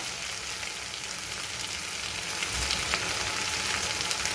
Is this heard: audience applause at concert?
no